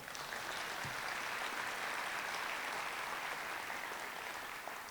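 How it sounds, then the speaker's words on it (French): A hall audience applauds the municipal council at a mayor's New Year greeting in Yerres, a steady, even wash of clapping that holds for the whole stretch with no voices over it. "Là aussi, on peut les applaudir."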